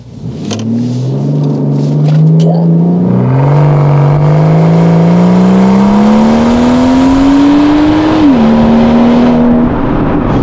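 A widebody Rolls-Royce Cullinan Series II tuned to 707 hp and 1060 Nm accelerates at full throttle, its loud engine note climbing steadily through the gears, with one brief dip at a shift before rising again.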